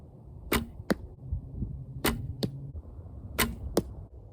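Arrows strike an archery target in three pairs of sharp, close thuds spaced a few seconds apart during practice, with no talking.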